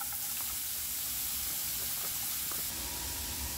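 Carrot sizzles in a thin film of hot oil in a frying pan, a steady faint hiss and crackle that continues without talk.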